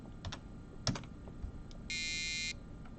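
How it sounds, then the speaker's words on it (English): An electronic buzzer in a STEM hacking project, driven on and off rapidly, lets out one steady, bright high-pitched buzz lasting about half a second, set against faint clicks and tapping. "it's going super fast, which is great for buzzers because they want to be vibrated on and off really fast"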